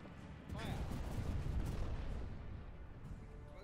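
Ship cannon fire in the pirate game Buccaneers!, a heavy booming volley that swells and rumbles for a couple of seconds before fading, with someone speaking over it.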